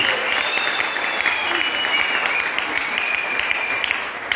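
A congregation at an anniversary mass in the parish of Ekouk gives loud, continuous applause, close and unbroken for the whole stretch, with a faint tonal ring above the clapping.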